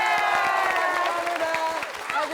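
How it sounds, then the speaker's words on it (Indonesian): Applause from a studio audience on an Indonesian TV comedy show, a dense continuous patter of clapping mixed with crowd noise and overlapping voices, loud and close throughout. "Kita tepuk tangan."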